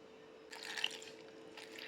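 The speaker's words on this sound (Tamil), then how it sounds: "இப்போ கொஞ்சமாக தண்ணி சேர்த்துக்கலாம்." Water is poured in a brief, soft splash into a spice mix of ingredients including ginger ready for grinding, faint against a quiet kitchen background with a steady low hum.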